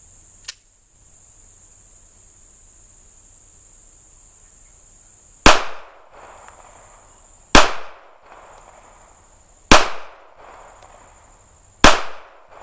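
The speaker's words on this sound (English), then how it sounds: "I'll show you in just a minute after I pop off 3 or 4 rounds" Four sharp, loud gunshots from a Smith & Wesson Bodyguard 2.0 .380 pistol fired outdoors, spaced about two seconds apart, each with a short ringing decay, heard alone with no talk.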